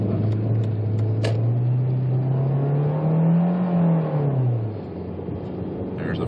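A 2003 Volkswagen Jetta 1.8T accelerates in first gear at about quarter throttle, its engine note rising steadily in a loud, close drone before dropping off as the revs fall, with no talk.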